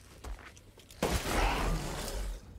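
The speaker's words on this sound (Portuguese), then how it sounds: "Eu dei 3 tiros pra matar ele." Magnum revolver shots during a boss fight in the horror video game Resident Evil Village: a loud burst of heavy gunfire and impacts about a second in, continuing as a dense rumbling clatter for over a second, with no talk.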